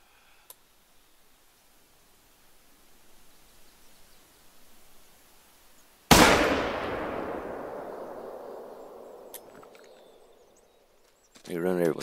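A single loud rifle shot cracks out while hunting a moose in The Hunter: Call of the Wild, its boom rolling away in a long fading echo, followed by a brief rattle at the end.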